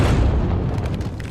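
A missile explosion in a brutal survival race, a loud, dense boom with heavy low rumble that fills the whole moment and then cuts off abruptly.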